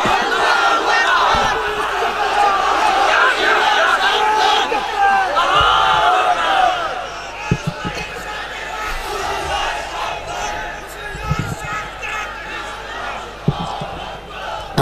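A large crowd at an Islamic religious gathering shouts a takbir call of Allahu Akbar together, a loud, dense roar of massed voices that swells early on and then thins into scattered shouting and murmur.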